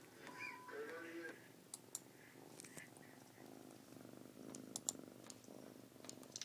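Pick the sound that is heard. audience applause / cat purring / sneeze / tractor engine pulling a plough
cat purring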